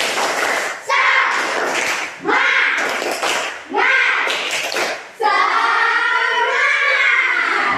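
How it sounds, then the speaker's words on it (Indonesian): Classroom children do a rhythmic spirit clap, sharp claps in quick patterned bursts that mix with their loud chanting voices. Brief pauses separate the bursts, and a sustained shout closes the sequence. "kita melakukan tepuk semangat dulu ya. Tepuk semangat"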